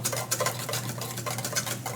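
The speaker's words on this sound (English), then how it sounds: "I can see the bottom when I whisk it." A whisk beats hollandaise sauce in a bowl in quick, steady strokes, with close scraping and clinking against the sides and no voices.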